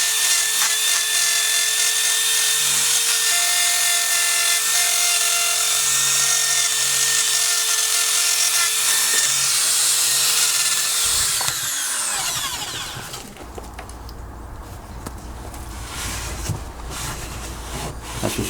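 A power tool scrapes black glue and rust from the body of a MK2 Golf GTI, with a loud harsh whine for about twelve seconds that winds down, followed by a quieter rumble and scraping.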